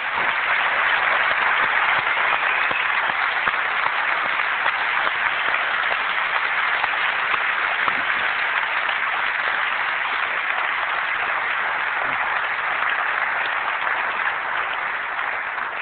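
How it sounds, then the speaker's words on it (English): A conference audience at the Seybold 1999 publishing event applauds the Apple teams, sustained even clapping from a large crowd that holds steady throughout, somewhat muffled and narrow in tone. "I'd like to give them a round of applause now,"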